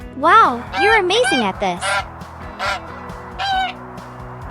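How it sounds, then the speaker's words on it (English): Goose honks, several harsh rising calls in quick succession, loud and close, with a voice speaking briefly between and after them. "Geese honk just like flamingos, but a little louder."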